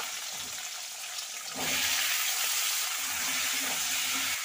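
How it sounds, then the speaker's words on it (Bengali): Carrots and beans hit hot oil that already holds bay leaf, cumin and cardamom, and a loud, steady hiss and sizzle rises suddenly and holds close up. "তো এবারে আমি গাজর, বিনস সবগুলো একসাথে ভেজে নেব।"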